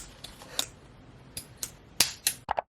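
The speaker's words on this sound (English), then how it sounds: "I'm going to start by cutting some wire." Wire being cut with a small cutter for homemade wire rings, a series of sharp, close snips at irregular intervals, with a quick double snap near the end, over quiet background hiss.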